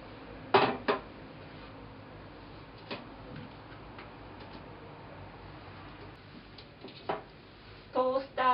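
Food is set out on a metal baking tray, with a few clinks and taps, sparse and quiet, and a quick cluster of rattling knocks near the end.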